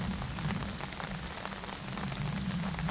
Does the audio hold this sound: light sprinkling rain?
yes